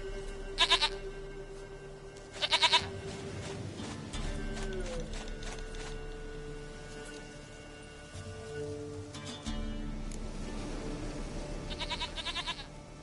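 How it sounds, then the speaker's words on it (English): Goat bleating in The Witcher 3, several loud, wavering bleats in separate bursts over steady game ambience and a low background drone, with no one talking. "Goat of mine, dearest, sweetest goat."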